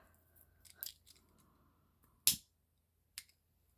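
Scissors trim crinkle seam binding with a few quiet snips, then one sharp loud cut and a smaller snip near the end, all close and with no talking.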